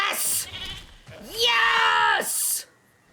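A goat bleating as it is eaten in Jurassic World Evolution 3, a couple of loud drawn-out wavering bleats with harsh noisy bursts between them, mixed with game sounds.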